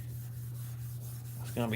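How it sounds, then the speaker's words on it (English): Hand sanding with 800 grit sandpaper, a soft steady rubbing over a low electrical hum, ending with a brief voice. "Just about done sanding this side with 800."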